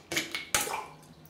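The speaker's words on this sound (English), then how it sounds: "I just dropped the top in the water there" Plastic lid of a shaving soap container dropping into a sink of water: a few quick splashy plops and a brief slosh, close and fairly loud, then fading drips.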